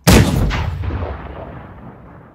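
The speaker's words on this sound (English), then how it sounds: "So I made a variety of different cannon sounds, different variations" One loud cannon blast, a designed British-style variation, hits hard at the start with a deep punch, then a brief secondary crack follows and a long rolling rumble decays gradually, alone without voices.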